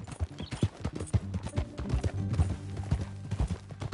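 Horse hooves clip-clopping in the Red Dead Redemption 2 video game, a quick steady gallop rhythm that is close and fairly loud, with a brief faint whinny.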